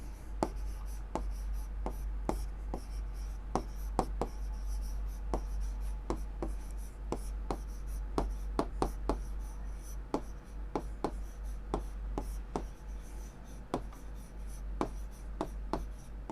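Pen writing on paper during an accounting lesson, a steady scratchy scribble broken by regular sharp taps as strokes begin, close and fairly quiet over a low steady hum, with no talking.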